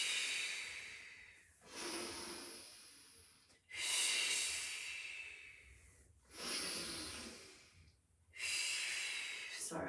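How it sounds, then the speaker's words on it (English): Heavy breathing during a Pilates exercise, with four or five long, loud, breathy exhales pushed out through the mouth in a slow steady rhythm, each separated by a brief quiet inhale, close to the microphone. "I know I'm a noisy breather when I do this."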